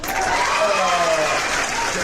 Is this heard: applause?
yes